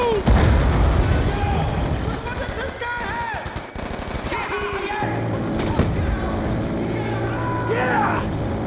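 A grenade explodes in the video game Call of Duty: Black Ops 2. A loud opening blast is followed by sustained rapid gunfire and booming combat noise, with shouted voices throughout.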